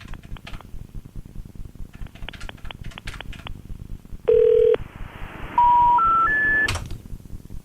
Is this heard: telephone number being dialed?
yes